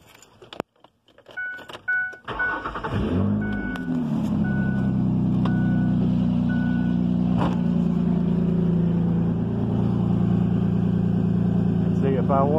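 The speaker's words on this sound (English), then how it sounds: "I'm going to go ahead and start the vehicle. It's a little loud" A vehicle with its fuel pump relay bypassed starts, cranking briefly before catching, then settles into a loud, steady idle that runs close by to the end, with talk over it.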